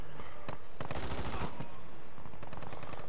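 Close, loud bursts of automatic gunfire in a shooter game, rapid cracks in clusters over about three seconds with a heavier barrage near the middle.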